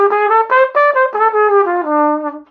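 A trumpet runs down the E blues scale in a quick series of clear, close notes, each tongued distinctly before settling on a final held low tone.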